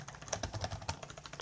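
Keys tapped on a Bluetooth keyboard paired to a phone, a quick run of light clicks and clacks at close range with no voices.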